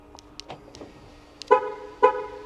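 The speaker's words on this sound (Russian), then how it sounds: "Тут у многих машин, в том числе и у моей Шкоды, с ключа можно закрыть. 2 раза, если нажать, закрыть все окна." A Volga K50 car locking with its key fob: a few light clicks, then two short, loud horn chirps about half a second apart, close by.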